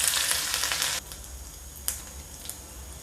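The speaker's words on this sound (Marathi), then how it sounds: "आता आपण तप गरम करायला ठेवले फोडणीसाठी तप गरम झाले आपलं आता आपण याच्यात आता जिरे मोहरी टाकू" Cumin, mustard seeds, ginger and garlic hit hot oil for a tempering, giving a bright, crackling sizzle that drops away after about a second, leaving a quieter hiss broken by a couple of pops.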